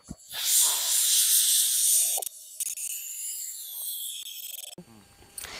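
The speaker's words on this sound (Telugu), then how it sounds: "ఇప్పుడు మంచిగా విజిల్ వచ్చింది కదమ్మా, ఇక దించుకుందాం" A pressure cooker cooking mutton lets out a loud, sustained steam whistle, hissing hard for about two seconds, then dropping to a softer, wavering whistle that carries on before cutting off near the end.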